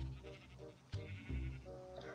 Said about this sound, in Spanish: Otra oveja.